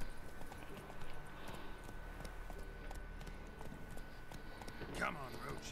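Hooves of Geralt's horse Roach in The Witcher 3: Wild Hunt, a steady clip-clop at a gallop on a road, continuous and moderately quiet under game ambience.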